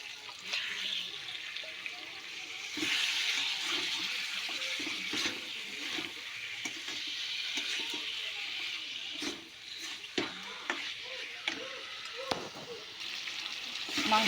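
Chicken pieces sizzle in an onion and tomato masala in a pan, with steady frying hiss and intermittent scraping clatter from stirring, close and moderately loud, with a voice now and then.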